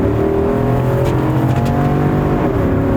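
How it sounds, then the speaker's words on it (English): An Infiniti QX80 luxury SUV accelerates hard on the approach to a highway, its engine roaring loud and steady with a deep droning tone over continuous road noise, heard from inside the cabin. "when you put your foot down, whoop, you feel all that power come to the front, and it really accelerates very quickly"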